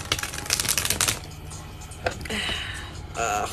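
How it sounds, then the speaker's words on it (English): Tarot cards being shuffled by hand, a quick flurry of riffling snaps followed by softer sliding and tapping of the deck, close and fairly loud. "This is really hard to shuffle, but it's okay."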